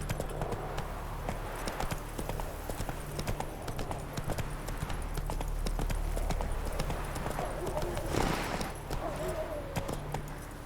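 Horse hooves clip-clop at a steady walking pace in the video game Witcher 3, a regular close rhythm over a low game ambience, with a voice speaking briefly.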